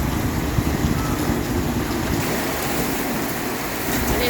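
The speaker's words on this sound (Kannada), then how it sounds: "ಮಳೆ ಮಳೆ ಮಳೆ ಮಳಿ" Heavy rain falls on a village during the year's first downpour, making a steady, loud hiss of water striking surfaces with a low rumbling undertone and no break.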